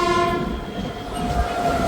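A passenger train on the Bathinda–Ambala Cantt route pulls into platform 1 at Ambala City, with a loud, sustained horn over the steady rumble of rolling wagons, close by and with no talk.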